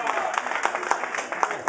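Applause from guests at a child's eighth birthday party with a showman: a short burst of hand clapping from a small crowd, with voices talking over it.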